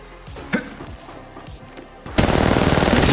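Gunfire in the video game Apex Legends: a few sharp separate shots and thuds, then a sudden loud burst of rapid automatic fire that continues to the end.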